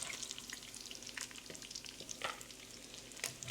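Bacon browning in a pan for Dublin coddle crackles and sizzles steadily, with scattered sharp pops and spits over a constant frying hiss, close and moderately loud with no talking.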